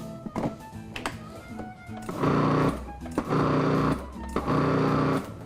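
A food processor pulses beef Wellington filling in three short, loud motor bursts of about a second each, separated by a few sharp taps and knocks, close by with no speech.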